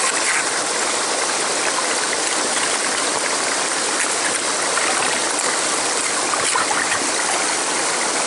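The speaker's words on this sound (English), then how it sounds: "This is kind of an unnamed little creek running in here to a tributary." A small unnamed creek running toward a tributary gives a steady, loud, close hiss of rushing water, unbroken and even throughout with no talk over it.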